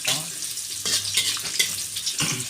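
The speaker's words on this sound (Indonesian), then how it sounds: "Kita masukkan bawang merah, kita goreng sampai setengah matang." Shallots sizzle and crackle in a hot pan, with stirring scrapes and bursts of frying noise, close up.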